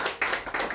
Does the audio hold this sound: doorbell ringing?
no